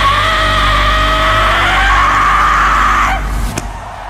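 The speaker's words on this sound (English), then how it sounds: "the last scream she does to me is insane." A singer's loud, sustained high-pitched scream in a live concert performance, held for about three seconds, sliding downward at the end, with a sharp final accent and dense backing sound.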